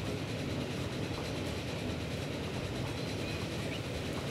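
Trains rolling along a line in the Transport Fever game, a steady rumbling wash of rail noise with dense low-end churn and faint clatter, continuous and fairly even throughout, with no voices.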